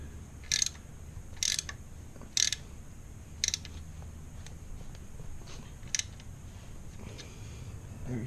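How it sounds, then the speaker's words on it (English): Five sharp, faint ratcheting clicks come at uneven intervals as a torque wrench tightens the oil drain bolt on a Yamaha FZ-07 motorcycle, each burst brief over a quiet background. "So torque it down to spec."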